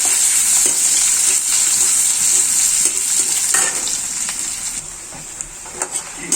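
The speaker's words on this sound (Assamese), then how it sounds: "পিঁয়াজখিনি মই ৰঙচুৱা ভালকৈ ভাজি ল'ম।" Onions fry in hot oil with a loud, continuous hiss and sizzle, stirred now and then, the crackle easing slightly toward the end with a few clinks.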